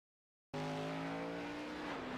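A single race car at The Bullring during Coffee Cup Nitro Series qualifying, the number 39 alone on track, cuts in abruptly after silence with a loud, steady engine drone that holds strong and close throughout.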